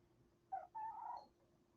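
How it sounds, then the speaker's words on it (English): A cat gives a short, faint, low yowling meow in two quick bursts, heard alone in a quiet room. "You hear the cat cussing at you, Duncan?"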